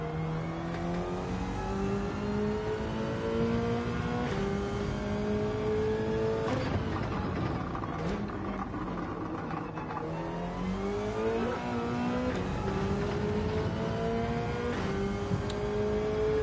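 Race car engine in Gran Turismo 7 revving loudly and steadily, its pitch climbing and dropping repeatedly through gear changes as the car laps, with no voices over it.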